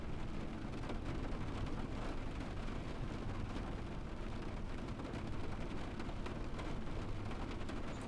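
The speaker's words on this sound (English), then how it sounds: "Love the sound of that rain, says Chimsky." Rain pattering on a train in the Train Sim video game, a dense, steady hiss of drops with a low rumbling undertone, continuous and even without any voices.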